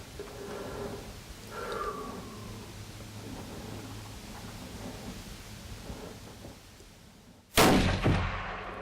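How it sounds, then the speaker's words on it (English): A single sharp, loud rifle shot at a deer during a hunt cracks out near the end, breaking a long stretch of quiet outdoor ambience. "When Lane fired, the deer just hit the ground, and it was a great feeling."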